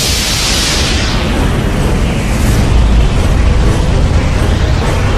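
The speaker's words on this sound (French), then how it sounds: "L'univers se déploie dans une formidable explosion d'énergie et de matière." A huge cosmic explosion for the Big Bang in a French science documentary on black holes: a sustained, loud roaring blast with dense rumbling noise that holds steady for about five seconds, with no voices.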